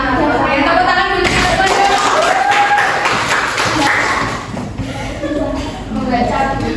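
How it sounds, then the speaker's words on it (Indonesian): A classroom of students clapping their hands together, a dense busy patter of many hands close by with voices chattering over it throughout. "Oke, tepuk tangan dulu."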